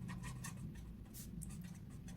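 A pen writes a maths definition in short, quiet scratchy strokes that come in quick bursts over a low room hum.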